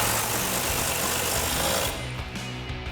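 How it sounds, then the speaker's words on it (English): A 22mm socket on a swivel and extension tightens a new strut top nut on a 2005-2010 Mustang, producing loud, continuous rattling hammering close by that cuts off after about two seconds. "Now we can tighten our new top nut down with our 22mm socket and swivel with an extension."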